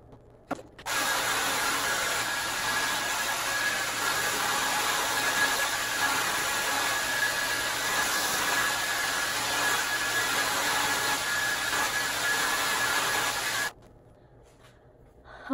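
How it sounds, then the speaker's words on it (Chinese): A hair dryer blows steadily on freshly washed, newly dyed hair at home, a loud continuous whooshing roar that runs for about thirteen seconds, then switches off, leaving quiet. "那我现在呢就准备把它去吹干"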